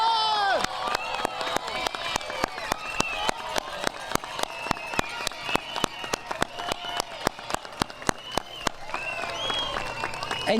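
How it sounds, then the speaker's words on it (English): Audience at a Chicago school celebration applauding standing parents: loud, dense clapping from a large crowd, with cheers and voices mixed in throughout. "can you stand so we can give you an applause for everything you have accomplished?"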